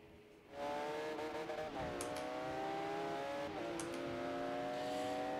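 Race cars in Forza Horizon 3 roar with engines revving and shifting gears, a steady close whine that climbs and drops over several changes.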